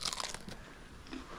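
Close, crisp crunching and chewing of a hickory-flavored snack, a dense crackly texture that goes on without a break with no voice over it.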